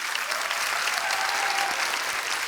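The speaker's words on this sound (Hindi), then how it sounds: "इनके लिए जोरदार तालियां" Studio audience applause on an Indian comedy talk show, steady broadband clapping that holds at an even level for the whole stretch with no voices over it.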